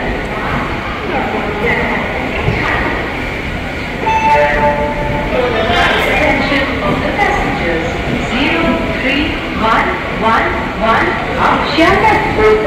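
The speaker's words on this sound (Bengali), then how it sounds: "আমাদের ট্রেন কিন্তু একটু লেট করে বোধহয় ছাড়লো 6 নম্বর প্ল্যাটফর্ম থেকে" A passenger train pulls away from platform 6 at Sealdah station on the Sealdah–Ranaghat line, a loud, steady rumble and clatter of carriages with brief horn-like tones, while a person talks over it.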